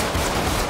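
Loud, dense automatic gunfire from a GTA 5 roleplay shootout, a brief continuous burst of rapid shots with no pause.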